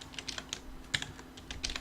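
Rapid keystrokes on a computer keyboard while entering CAD commands, a quick run of close, crisp clicks in an irregular rhythm with a few louder key hits, heard alone at low level.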